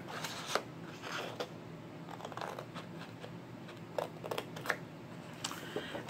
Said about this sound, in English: we're going to cut up the score line all the way up to our second score line here